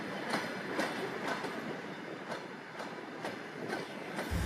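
The Golden Eagle Trans-Siberian Express rolls steadily along the rails across Russia, Siberia and Mongolia, wheels clacking in a regular rhythm over a constant rumbling hum, heard from inside the carriage.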